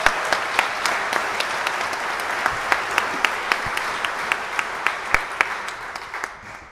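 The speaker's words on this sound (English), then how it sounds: "A round of applause for everyone here tonight." Reunion audience at an alumni assembly applauding steadily and loudly, a dense crowd of clapping with a few sharper claps standing out, fading slightly at the end.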